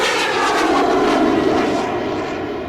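An RC airplane engine in a flight simulator at full power during a climb: a loud, continuous droning whine with a steady pitch, close and alone, easing slightly toward the end.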